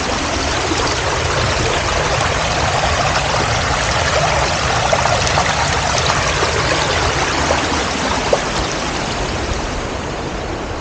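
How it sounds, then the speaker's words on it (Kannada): Water rushes over rocks at Arbi waterfall near Karkala in Udupi, a loud, unbroken, close hiss and roar of flowing stream with no voices. "ಬಂಡೆಗಳ ಮೇಲೆ ಮತ್ತು ಗಿಡಮೂಲಿಕೆಗಳು ಮಧ್ಯದಿಂದೆಲ್ಲ ಬರುವಂಥ ನೀರಿದು"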